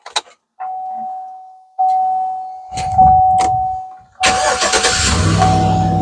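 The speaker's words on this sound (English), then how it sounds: "I'm gonna start the car and see if the light is still on." A 2009–2015 Chevy Silverado pickup starts up: a steady chime tone first, then the starter cranks briefly and the engine catches into a loud, close idle.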